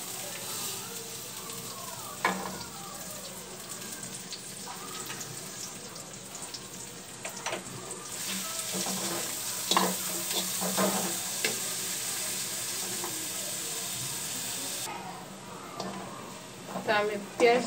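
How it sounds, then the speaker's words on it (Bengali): Onions lightly frying in a pan, a soft, steady sizzle with intermittent stirring clicks and scrapes, joined by a brief spell of running water. "পেঁয়াজগুলো আমি একটু হালকা করে ভেজে নিব"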